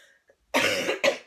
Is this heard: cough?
yes